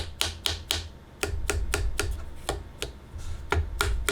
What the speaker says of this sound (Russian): Послушайте, как батарея щелкает, когда вы держите ее.